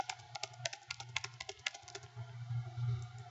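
Loud, clacky keystrokes rattle in quick uneven bursts on a nearby computer keyboard, with a low hum underneath.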